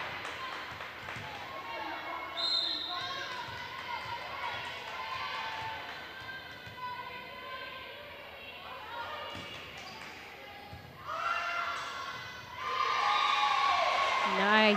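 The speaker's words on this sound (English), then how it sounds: "As you can hear, the crowd is nice and pumped out here." Crowd cheering and shouting at a high school volleyball match between Stoney Creek and Avondale, steady throughout with a voice talking over it, then swelling louder over the final few seconds.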